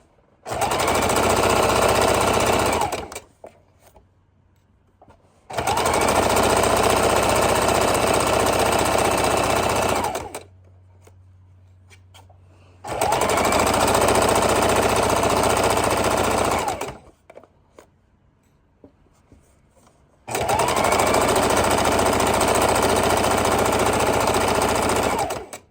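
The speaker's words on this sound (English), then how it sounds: "we're going to go ahead and sew on our cut edge" A sewing machine stitches along the cut edge of a quilted book bag with cotton batting, running in four loud, steady bursts of about three seconds each, separated by brief quiet pauses.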